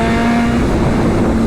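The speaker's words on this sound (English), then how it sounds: "this bike just rips and roars with its full aero titanium exhaust system" A 2023 BMW M 1000 RR motorcycle fitted with a full titanium exhaust drones at a steady, loud engine tone, close and constant, with no talking.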